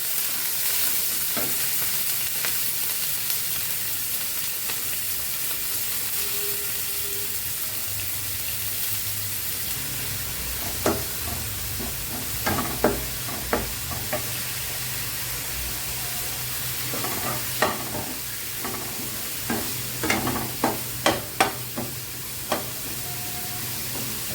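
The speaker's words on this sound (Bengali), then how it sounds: "রসুনটা খুব ভালো করে ভাজি করে নেব।" Chopped garlic and green chillies fry in a pan with a steady low sizzle, broken by scattered clicks and stirring scrapes that grow busier in the second half.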